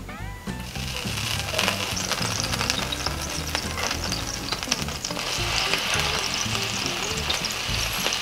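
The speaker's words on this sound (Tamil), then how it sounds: "இப்போ முதல்ல நம்மளுடைய தோசைக்கல் சூடானதும் லேசாக எண்ணெய் தடவிக்கலாம்." Oil sizzling on a hot dosa griddle (tawa) for crispy adai: a loud, steady crackling hiss with low rhythmic thuds underneath, no voices.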